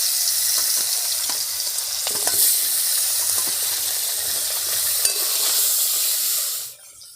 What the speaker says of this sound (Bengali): তেল ভালোভাবে গরম হয়ে গেছে। এবার মাছগুলো ভেজে নেব।